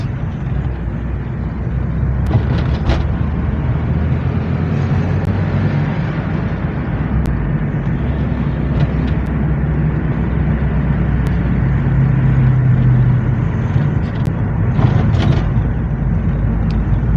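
A car drives along Omori Street in Benin City, Edo State, with a steady, loud engine and road rumble throughout and occasional brief clatters and passing-traffic swells, no talking.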